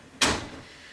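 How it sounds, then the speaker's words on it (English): A household door shut once, a single sharp close at the start, fairly near and loud, then quiet room tone. "Close the door, please."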